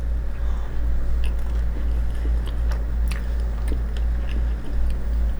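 Someone takes a bite of homemade lasagna, with close, wet chewing sounds over a loud low rumble.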